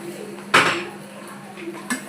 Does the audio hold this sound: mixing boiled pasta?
yes